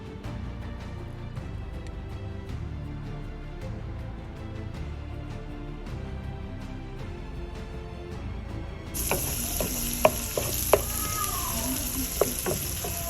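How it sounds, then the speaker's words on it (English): Pan cooking on medium heat with stirring, a low steady sizzle that jumps to a much brighter, louder hiss partway through as more goes in, with sharp spatula clacks. "stir it up and let it cook for a few seconds before you add in your onions"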